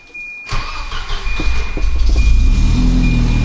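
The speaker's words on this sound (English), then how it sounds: "So I'm going to start the car." A Volvo 240 car engine cranks briefly and catches, settling into a steady close idle that grows louder and fuller as it runs, heard alone.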